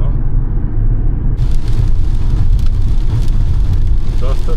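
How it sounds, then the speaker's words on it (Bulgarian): Heavy rain drumming on a car while driving out of Sofia, a loud dense patter on the roof and glass over a low road rumble, continuous and close throughout. "Доста силно започна да вали"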